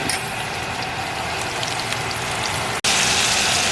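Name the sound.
pork chops searing in a pan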